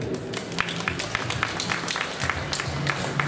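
Applause from an audience at an arm-wrestling masterclass: a moderate, uneven patter of many claps with sharper individual hand slaps standing out, heard over a low murmur of crowd noise.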